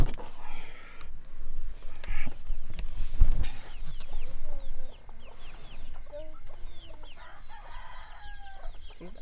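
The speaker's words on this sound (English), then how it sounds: "There's a chicken up on a cage" Hen perched on top of a stack of quail cages, clucking repeatedly up close, with other chickens and birds calling in the background.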